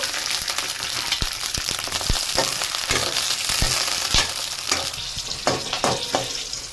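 Dried red chillies and gongura leaves fry in hot oil with a steady close sizzle, broken by sharp crackles and scraping stirs at irregular moments.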